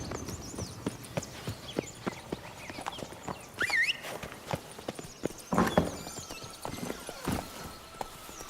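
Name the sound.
Geralt's horse Roach galloping in the video game The Witcher 3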